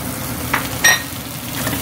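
Garlic and green onions fry in a pan for a shrimp dish, a steady soft sizzle with a couple of brief stirring scrapes, heard close and alone.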